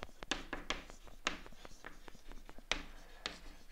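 Writing on a board during a lecture on holomorphic functions, a series of close, sharp taps and short scratchy strokes in an irregular rhythm, with no talking.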